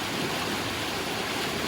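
A river flows with a continuous, even rushing and hissing of water, steady and fairly close, with no voices over it.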